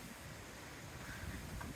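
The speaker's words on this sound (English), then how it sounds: "very blowy. Lots of wind." Strong wind blows steadily outdoors in Laos, a constant low rushing roar that swells a little toward the end, with no voices.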